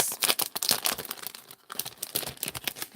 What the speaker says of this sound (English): Let's grab some of his vintage tape.